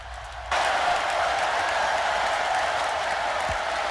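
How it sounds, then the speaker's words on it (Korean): A large crowd at a political convention chanting in unison for the vice presidential nominee, a former high school football coach, a dense roar that swells in abruptly and holds loud and steady. "고등학교 풋볼 코치였던 월즈에게 관중들은 코치 월즈를 연호했습니다"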